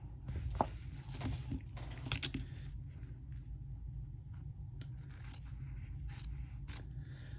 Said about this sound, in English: I trim off the corners just to make sure there's, you know, not a super amount of bulk there